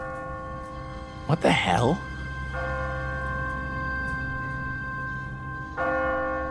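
Automatic timer-driven church bell in The Walking Dead game, ringing in long sustained tolls with a rich harmonic hum; a startled voice cuts in early, then a second strike arrives near the end.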